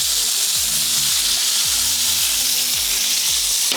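Stuffed gorditas sizzle and fry steadily in a hot pan, a constant bright crackle while a low rhythmic tone pulses underneath, with no one speaking.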